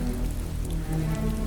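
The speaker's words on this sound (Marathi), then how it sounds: "बाहेर खूप जास्त पाऊस येत होती" Heavy rain during a stormy night in a horror drama, a dense, constant hiss of rain pounding on surfaces, loud and close, with no voices over it.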